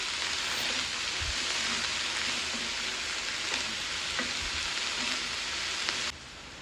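Cauliflower pieces tossed with salt and turmeric in a pan for a Kerala-style stir fry make a continuous dense sizzle, with occasional soft scrapes, cutting off abruptly near the end.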